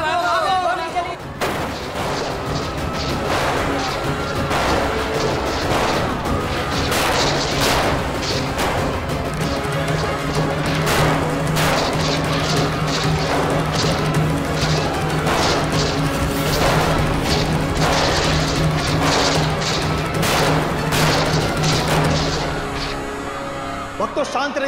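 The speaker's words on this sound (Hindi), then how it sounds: "गोली चली, भागो भागो" Repeated sharp bangs ring out as gunfire, dense and loud, amid continuous panicked shouting and crowd noise, with a sustained droning tone running underneath for much of the time.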